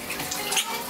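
Shower running steadily, a continuous close hiss of spraying water with a slight swell midway and no voices over it.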